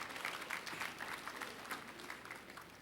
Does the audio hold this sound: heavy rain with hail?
no